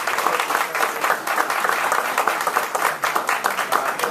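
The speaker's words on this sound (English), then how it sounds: "I want you to give them a big round of applause" Dense, steady applause from an audience at an Ohio Democratic jobs-plan event, greeting Urban League representatives from Toledo and Warren, Ohio; continuous close clapping for about four seconds with no talk over it.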